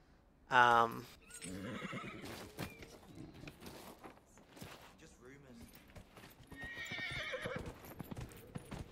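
A horse in the video game Dragon Age: Inquisition whinnies sharply at the start, followed by rhythmic hoofbeats clip-clopping at a quick pace, with a voice talking over them.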